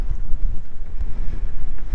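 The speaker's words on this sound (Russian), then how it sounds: "Снялся жуткий ветер, и я вот в таком виде иду домой." Strong outdoor wind buffets the microphone on a sunny day in Yangjiao, China, a loud continuous low rumble with gusty pulses throughout and no voices.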